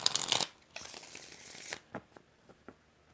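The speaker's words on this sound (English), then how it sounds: "Four shuffles." Tarot cards being shuffled, a quick riffling burst followed by several softer separate shuffles and taps, close and quiet with no talking.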